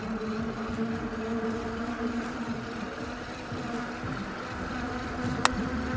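A Luckeep X1 e-bike's rear motor whirs steadily on a ride through downtown Las Vegas heat, a constant buzzing drone mixed with road and wind noise, with one brief sharp tick near the end.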